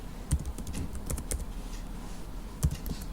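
Fingers tap on a computer keyboard in short irregular bursts of light clicks, close and moderately quiet, with a couple of firmer key strikes standing out.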